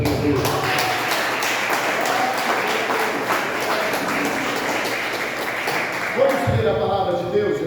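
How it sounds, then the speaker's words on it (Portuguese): A church congregation claps joyfully for Jesus, with dense, steady, rhythmic clapping from many people running throughout and voices mixed in. "Palmas em alegre para Jesus."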